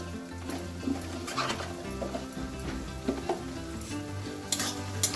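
Capsicum stir-fried with chopped garlic and onion sizzles in a pan, a continuous frying hiss broken by scraping stirs and utensil clinks, with a low steady hum and some bird cooing in the background.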